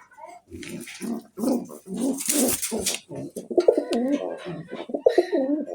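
Large grizzle pigeons, a male and female sitting on eggs, coo repeatedly in soft throaty bursts close by, with rhythmic overlapping calls and no speech.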